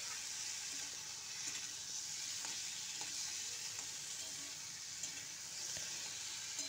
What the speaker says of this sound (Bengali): দেখো জিরে গুঁড়ো দিয়ে দিলাম, নুন দিয়ে দিলাম, টমেটো দিয়ে দিলাম, দিয়ে একসাথে কষছি